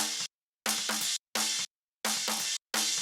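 A phase-flipped snare drum bleed track, high-passed up to 800 Hz, plays alone as bright, hissy bursts of high end, five or so chunks separated by silent gaps, loud and close with no voices.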